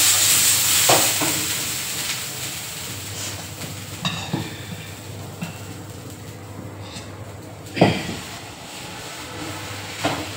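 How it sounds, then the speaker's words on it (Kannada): Dosa batter sizzles on a hot pan in a home kitchen, a steady close frying hiss broken by occasional utensil clinks and scrapes. "ಒಂದೆರಡು ದೋಸೆ ಹಾಕ್ಕೊತೀನಿ"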